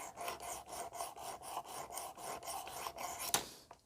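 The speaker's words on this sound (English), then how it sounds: "So I'm just going to let it sand it down." Knife blade being sanded on a Work Sharp Precision Adjust sharpener, a soft repeated rasping in steady back-and-forth strokes, close and fairly quiet, ending with a sharp tap.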